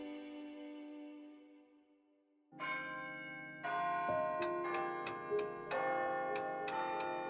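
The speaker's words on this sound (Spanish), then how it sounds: "Esa noche a las 8 todo el pueblo juró haber oído el campanario tañer." Church bells ring out in a sequence of clear, resonant strikes, layered over a sustained ringing tone, fairly quiet and without any voices.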